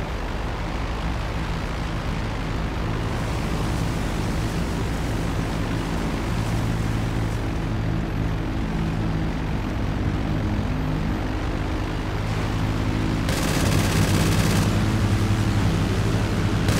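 A propeller airplane drones steadily for the whole stretch in the video game Catman 2 Remastered, loud and continuous, with a brief brighter roar near the end as if passing close.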